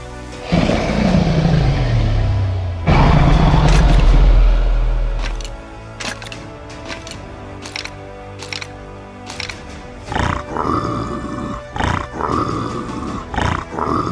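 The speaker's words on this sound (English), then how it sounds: "Piglin heads are added. Now heads can make sounds." Piglin head in Minecraft making sounds: loud, rough piglin grunts and snorts up front, then a series of quieter clicking and snuffling bursts spaced across the rest.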